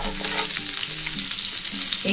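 Mustard and coconut paste sizzles steadily and loudly in hot oil while being cooked for a fish paturi, with faint music underneath.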